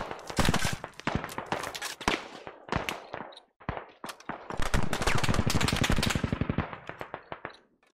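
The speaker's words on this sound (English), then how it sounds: "put some cover fire out there to the northeast" Automatic gunfire in the military shooter game Squad: loud, rapid bursts crackle almost without pause for about seven seconds, with a few brief gaps between volleys and no talking.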